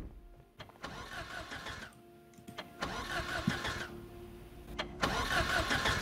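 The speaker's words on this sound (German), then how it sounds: "Motor kurz schließen." A car engine hotwired in the video game Project Zomboid cranks and catches in several bursts, sputtering between attempts before running at a mid-pitched idle, with no talk over it.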